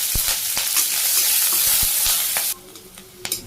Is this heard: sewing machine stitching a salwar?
no